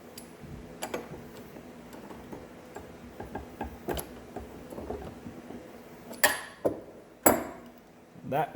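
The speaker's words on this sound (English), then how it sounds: "And our ratchet and socket, and we'll take her loose." A ratchet and socket loosen a cutterhead bolt on a DeWalt 735X benchtop planer, giving scattered sharp metallic clicks and ticks, then a few louder clunks near the end, close by in a quiet shop.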